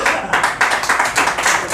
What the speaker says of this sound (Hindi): तालियां अभी आधे लोगों ने बजाई, आधे लोगों ने नहीं बजाई है